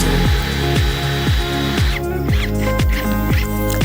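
A Laxton LX-18 brushless cordless drill bores through PVC, its motor whining loudly and steadily while the bit catches in a fast, regular series of thumps, close and with no voices.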